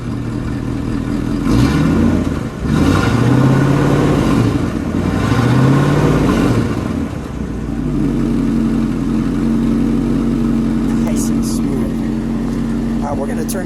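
A 1961 Buick LeSabre convertible with a single exhaust is revved twice, each blip rising and falling loudly up close, then the engine settles back to a steady idle with a voice briefly audible.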